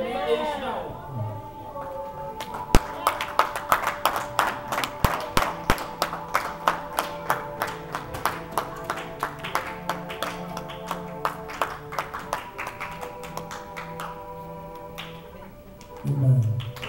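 Church audience claps hands in a steady, rhythmic beat at moderate distance, dozens of regular sharp claps running for several seconds, with speech and voices underneath.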